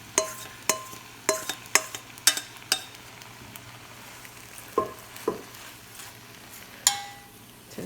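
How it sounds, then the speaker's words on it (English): A spoon stirs wilting cabbage in a frying pan with a vinegar and sugar solution. Sharp scrapes against the pan repeat in an irregular rhythm over a faint, low sizzle, close and with no talk. "We're going to stir that around."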